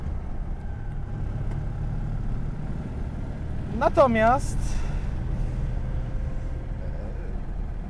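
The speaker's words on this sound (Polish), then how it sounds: "Nie wiem jak mnie słychać, bo silnik chodzi dość głośno." The engine of a Citroen Ami 8 Break runs loudly while driving, a constant low drone under someone talking, with a brief rising whistle-like sweep midway.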